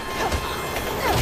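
Train in the survival horror video game Resident Evil 6, a brief close rumble of rolling rail cars with clattering and faint squealing wheel tones.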